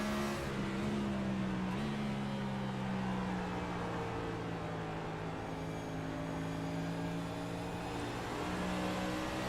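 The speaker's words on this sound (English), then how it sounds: "you can hear a difference in the pitch of the engine" Race car engines drone in an esports oval racing league event at Gateway, a steady high-revving hum whose pitch dips and rises slightly through the corner. No voices are heard.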